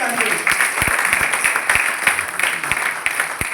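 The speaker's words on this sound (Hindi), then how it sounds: "हमारे गुरुदेव जितेंद्र कुमार मौर्य जी के नाम पर एक और ताली होनी चाहिए" An audience at a business training seminar claps in scattered, sharp bursts under a continuous murmur of voices.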